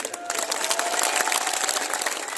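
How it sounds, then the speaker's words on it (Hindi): A crowd at an Indian political rally for Rajendra Singh Gudha breaks into steady applause and cheering: dense, continuous clapping with excited voices, loud and unbroken throughout. "आपकी तालियां, आपकी चहकार"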